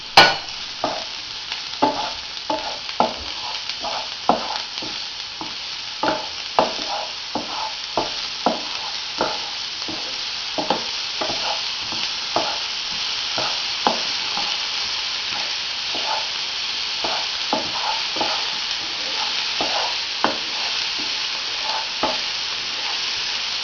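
Mushroom stems fry in a pan with a continuous sizzling hiss, punctuated by regular scraping stir strokes and clinks, close and steady for over twenty seconds without talking.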